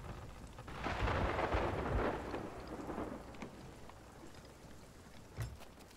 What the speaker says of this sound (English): Lightning is striking specifically all around me right now.